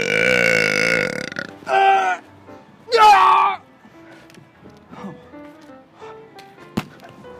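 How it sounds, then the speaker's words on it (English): A man burps loudly in public, long rolling belches with several short bursts, close and loud, followed by a few shorter burps and light voices in the background. "today I'm gonna be doing some public burping"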